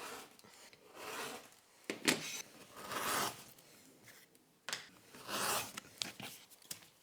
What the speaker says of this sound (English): So I cut all my straight edges first with a rotary knife and a safety ruler.